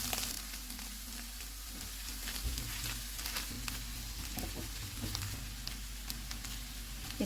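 Food frying in a hot pan on a stove: a steady, close sizzle with crackling runs unbroken throughout, with a few faint stirring clicks and no voices.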